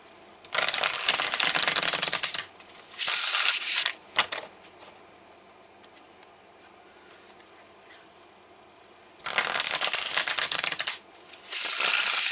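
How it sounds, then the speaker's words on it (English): Tarot cards are shuffled by hand in several bursts of crisp riffling and rustling, close and loud, separated by quieter pauses with light handling noise. "While I'm shuffling, Pisces,"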